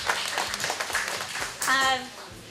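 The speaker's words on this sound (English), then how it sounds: "Give yourselves a round of applause" Volunteers at a gathering before Thanksgiving applaud themselves, a short burst of clapping from a modest group that swells near the end, with voices mixed in.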